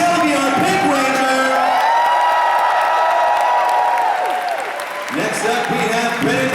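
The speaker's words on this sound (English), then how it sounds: "Make some noise for Camille Hyde, Shelby on Pink Ranger." Loud, sustained applause and cheering from a large convention panel audience, with whoops and shouts, dipping briefly before surging again.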